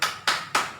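A classroom's 'tepuk semangat' clapping routine: three sharp, evenly spaced claps in quick succession, each crisp and close, with no talk.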